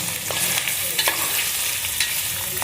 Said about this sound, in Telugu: పచ్చివాసన పోయేలాగా ఫ్రై అవ్వాలి